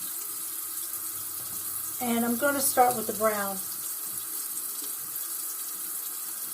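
Water runs steadily from a bathroom sink tap as a constant hiss, while someone speaks briefly over it partway through.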